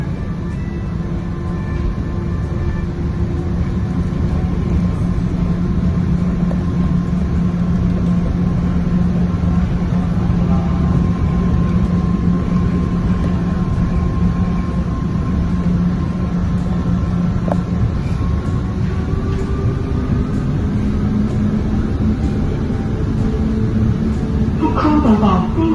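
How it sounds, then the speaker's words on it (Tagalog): Macao LRT train riding toward the airport: a loud, steady rolling rumble and motor whine inside the carriage, with a rising electric tone and brief squeals near the end. "This train's destination is"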